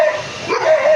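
A big dog gives a short, close, loud yelping bark that rises in pitch and then whines, heard alone within about one second.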